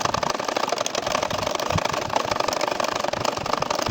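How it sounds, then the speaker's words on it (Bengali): Sewing machine stitching a nakshi kantha quilt with a champa flower design, running in a fast, steady mechanical whir with rapid needle chatter, close and continuous. "এখন আবারও কিন্তু আমি ফিটটা হালকা উঁচু করে ঘুরিয়ে ঘুরিয়ে সেলাই করতেছি।"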